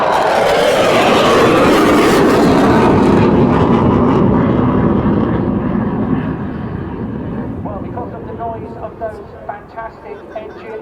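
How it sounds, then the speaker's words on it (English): A Eurofighter Typhoon with twin Eurojet engines roars past at the Southport Air Show, loud and broad at first, then its jet noise fades away as the crowd's voices become audible. "Sit back and enjoy this full display of the Typhoon in Southport."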